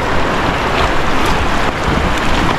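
Strongly flowing river water rushes loudly and continuously close by, a broad, steady roar with no voices.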